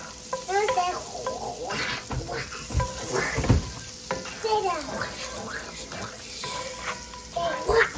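Pot roast ingredients sizzle in a pan that isn't hot enough while being stirred, with repeated close scraping and clattering over a steady frying hiss, and a voice speaking now and then.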